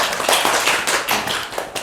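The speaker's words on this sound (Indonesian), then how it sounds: "Tepuk tangan loh." Podcast studio applause: a few people clapping loosely with uneven, overlapping claps, close and fairly loud, for about two seconds with no talk.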